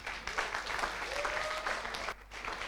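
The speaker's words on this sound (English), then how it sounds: "You can clap for it if you want to." An audience at a live conference talk breaks into clapping and applause, a dense, sustained wash of many hands that dips briefly near the end before picking up again.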